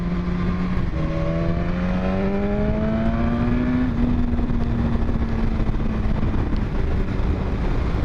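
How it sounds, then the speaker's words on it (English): A 2015 BMW S1000RR motorcycle with a quick shifter slows toward a corner, its engine note stepping through several gears with brief auto blips before settling into a steady hum. Wind noise rushes over the microphone throughout. "So it has got the quick shifter on it, it auto blips."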